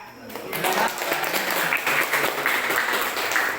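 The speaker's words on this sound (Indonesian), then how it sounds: "beri tepuk tangan untuk kelompok 3" Applause from a classroom for the best student group, a dense and fairly loud wash of clapping that holds steady across the whole stretch, with voices mixed into it.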